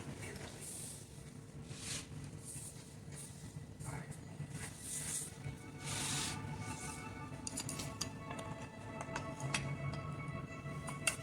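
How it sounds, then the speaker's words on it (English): A wooden table surface brushed clean in a woodworking shop before hollowing, a steady soft rubbing and sweeping texture close by, followed by a few lighter scratchy strokes toward the end. "Let me brush off this table real quick"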